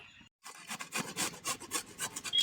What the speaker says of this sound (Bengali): এবার এই গ্রেটার দিয়ে গ্রেট করে নেব